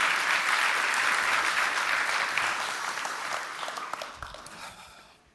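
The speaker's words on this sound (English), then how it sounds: "Let me get a round of applause for that." Keynote audience at a gutter industry summit giving loud, dense applause that holds strong for several seconds, then gradually thins and fades out.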